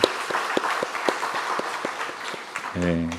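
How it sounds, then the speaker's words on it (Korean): A church congregation claps in a sermon setting, a scattered, moderately loud run of handclaps with a steady rhythm of sharper claps, ending as a voice begins speaking. "우리 다음 세대 자녀들을 위해서 격려하는 의미에서 박수 한번 쳤으면 좋겠습니다"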